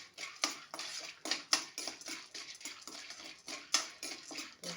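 Popcorn kernels coated in oil, salt and turmeric are stirred in a pot, producing a series of scraping, rattling strokes with sharp metallic clinks, moderately quiet and rhythmic.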